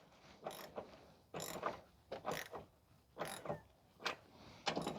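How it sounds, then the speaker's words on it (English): Hand tightening of a bolt while installing a tow hitch on a Pontiac Vibe or Toyota Matrix, heard as quiet ratcheting and clicking bursts repeating about once per second. "Try to tighten this by hand all the way."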